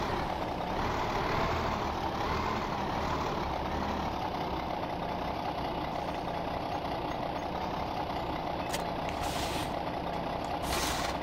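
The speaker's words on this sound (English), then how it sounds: "And it sounds like a proper truck." A truck engine in the video game Farming Simulator 2015 rumbles continuously at a steady, moderate level, with a couple of brief hissing bursts near the end.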